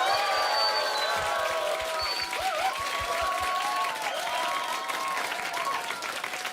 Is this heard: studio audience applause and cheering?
yes